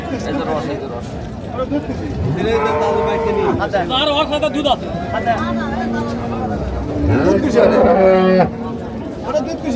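Cows and calves at the Raniganj cattle market in Dinajpur moo loudly, several long lowing calls overlapping near and far amid a busy crowd hubbub with people talking throughout.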